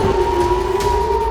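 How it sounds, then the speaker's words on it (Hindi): War sirens sounding in Tel Aviv and Tehran, a sustained steady-pitched wailing tone held loudly and continuously over a low background rumble, without voices. "तेल अवीव और तेहरान में बीते 3 दिनों से जंगी सायरन बज रहे हैं।"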